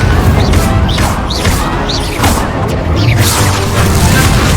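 Loud magical fire-spell blasts in a wizarding duel, several booming bursts over a dense, continuous roar.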